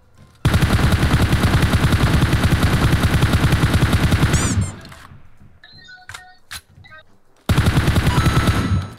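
Loud rapid automatic gunfire from a PUBG Mobile match, a sustained burst of several seconds, a pause with sparse clicks and short electronic blips, then another long burst starting near the end.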